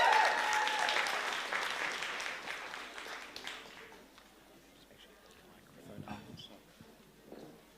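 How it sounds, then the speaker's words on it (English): Applause from wedding reception guests for the bride's parents, loudest at the start and tapering off over about four seconds, leaving quiet room noise, shuffling and a few faint voices. "Give a round of applause"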